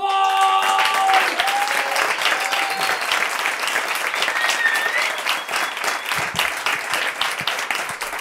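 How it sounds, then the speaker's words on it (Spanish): Audience applause welcoming a performer on stage, a loud, sustained roar of clapping from a large crowd that holds steady throughout, with faint tones ringing briefly near the start. "Fuerte el aplauso para Cacofón."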